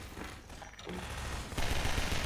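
Rapid gunfire in the video game Half-Life 2 Deathmatch, dense bursts of shots that grow louder and denser toward the end, with no talk over them.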